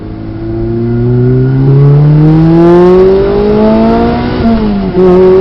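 A 2005 Lotus Elise sports car engine revs hard and climbs steadily in pitch as it accelerates, with a quick shift near the end, loud and close.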